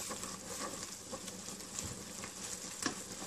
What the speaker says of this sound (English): So we're gonna let this simmer until it's a little bit more dense than this.